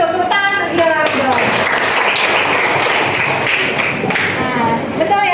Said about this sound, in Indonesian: Tepuk tangan untuk Geowardo